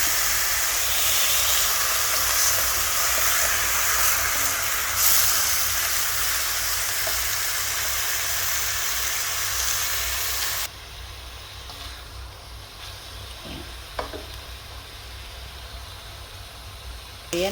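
Pork sautéing in a pan for Filipino humba, a loud continuous sizzle and hiss that drops abruptly to a quieter fry partway through, with a few clinks of stirring near the end.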